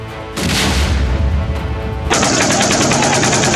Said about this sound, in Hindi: बंदूकों की तड़तड़ाहट और खौफ से भर देने वाली रॉकेट की उड़ान